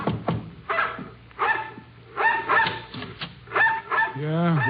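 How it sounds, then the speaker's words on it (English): A dog barks repeatedly at close range, in short bursts with a whine at the end, as people speak calmly in an old radio drama. "the dog barking at our heels"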